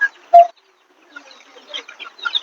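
Chickens and chicks on a small backyard farm give a few short clucks and peeps, one loud call near the start, then softer scattered clucking close by with no talk.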